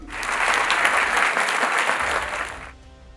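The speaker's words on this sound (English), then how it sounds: "thanks for clapping for me even before I said anything" A school audience at a lower eastern region knockout event breaks into steady, dense applause, loud and continuous, before it cuts off and fades into quiet room noise.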